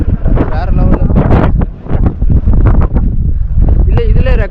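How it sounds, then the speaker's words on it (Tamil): Strong wind on the summit of Kondarangi Malai hill in summer roars into the microphone, a loud, continuous buffeting rumble that swamps everything, with muffled speech faintly underneath. "வேற லெவலில் உங்களுக்கு காற்று இருக்கும்."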